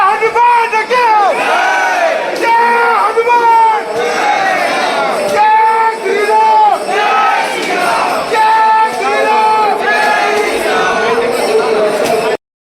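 A large, dense crowd at the Bhadra Maruti temple in Khultabad fills the air with loud, continuous overlapping voices, shouts and chant-like calls that rise and fall without pause.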